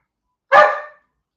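One loud, close dog bark, a single sharp bow-wow that rings out briefly and fades, with no voices over it.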